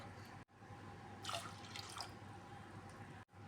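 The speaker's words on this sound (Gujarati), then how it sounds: "એમાં બે ગ્લાસ પાણી ઉમેરશું આપણે" Water pours steadily into a pressure cooker in a continuous rush, a brief louder burst of splashing in the middle, with no voices.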